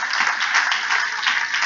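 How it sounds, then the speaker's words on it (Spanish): A church congregation applauds together in a dense, steady burst of many hands clapping, close and even for the whole short stretch with no voices. "Dé ese aplauso fuerte al Señor."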